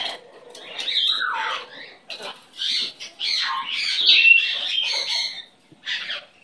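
A pet parrot, close by, lets out a varied run of chirps, whistles and squawky calls in uneven bursts separated by short pauses.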